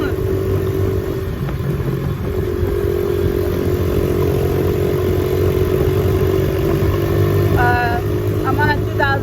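A 2007 Honda CRF70 dirt bike engine runs loudly and steadily throughout, a close continuous buzzing drone, with faint voices and a brief rising tone near the end.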